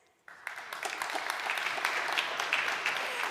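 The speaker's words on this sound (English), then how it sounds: "tabs, clap your hands." After a brief quiet moment, a conference audience at a Python developer event bursts into clapping to vote on tabs versus spaces, a dense, steady roomful of hands that holds loud to the end.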